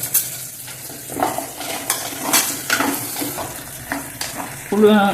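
Small onions sauté in a pan with a steady sizzle while a spoon scrapes and clinks against the metal in irregular strokes, close up and without speech.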